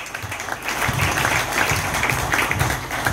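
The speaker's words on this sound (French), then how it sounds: "Est-ce qu'on peut acclamer le Seigneur?" A church congregation claps and applauds steadily to acclaim the Lord, a dense, continuous burst of many hands lasting a few seconds with no voices on top.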